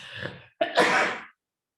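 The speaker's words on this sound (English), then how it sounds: "I'm gonna sneeze." A single sneeze, with a short sharp intake of breath followed by an explosive burst, close and fairly loud in a quiet room.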